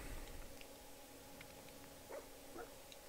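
A dog, Dogmeat, in Fallout 4 gives a couple of faint, short whimpering yips near the end, quiet over a low game ambience with no talking.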